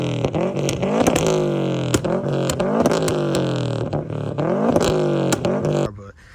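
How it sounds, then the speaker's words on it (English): A Subaru engine fitted with a Cobb downpipe and Tomei exhaust revs repeatedly up and down close by, a loud raspy tone climbing and falling in several pulls before cutting off abruptly. "The Cobb downpipe with the Tomei exhaust."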